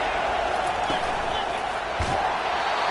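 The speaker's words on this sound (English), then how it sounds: "Decibels rising as the crowd gets behind this defense on third down." A loud football stadium crowd roars steadily through a defensive third-down play, a dense continuous wash of cheering and shouting with brief surges, filling the whole clip.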